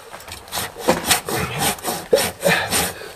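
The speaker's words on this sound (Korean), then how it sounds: "톱질이 뱃살 빼기에 아주 좋아요." A hand saw cuts through wood in a steady back-and-forth rhythm of rasping strokes, close and fairly loud, with no talk.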